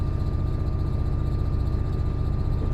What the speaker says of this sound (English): I do love to hear this rev all the way up. There we go. Turbo's kicked in.